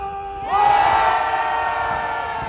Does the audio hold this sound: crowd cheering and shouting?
yes